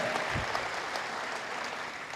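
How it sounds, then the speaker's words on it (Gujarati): An audience claps in a hall at a gathering of the Arya Kanya Gurukul, a short burst of fairly distant, even applause without voices. "let's give a big thundering round of એપ્લોઝ two dear Narendrabhai and Vajubhai"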